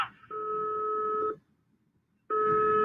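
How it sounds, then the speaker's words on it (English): Electronic alarm tone during the countdown for a Long March 5 rocket launch carrying Chang'e 5, two sustained beeps about a second long separated by a pause, clear and moderately loud, with no talk over it. "That's the alarm. That means we're just about 30 seconds away."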